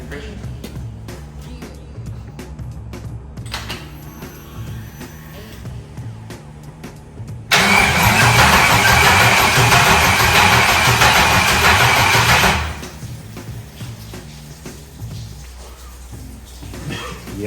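An LS-swapped G-body Cutlass cranks over amid intermittent clicks and shop noise, then bursts into a loud, steady idle for about five seconds before cutting back to quieter rumble and handling sounds.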